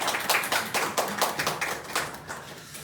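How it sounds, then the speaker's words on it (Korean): A church congregation at a Sunday service claps for a missionary, a rhythmic unison clapping with distinct beats about every quarter second, fairly close and fading slightly toward the end. "박수로 한번 격려해 주시겠습니까?"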